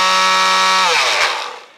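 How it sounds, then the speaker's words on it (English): A small Black & Decker handheld power sander rounding off squared edges on a wooden cross runs with a steady loud motor whine, then winds down and fades out near the end. "I personally use this little Black & Decker handheld power sander"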